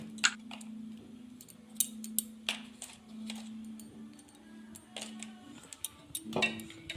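Rice batter and flour are stirred together in a bowl, with quiet, irregular clinks, taps and soft scraping from the utensil against the bowl's sides over several seconds.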